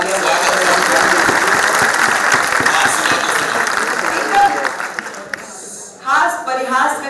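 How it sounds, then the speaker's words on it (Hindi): Loud, dense clapping from an audience at a poetry recital tribute to martyrs, filling the first five seconds before fading as a voice takes over. "एक बार जोरदार तालियां बजाइए"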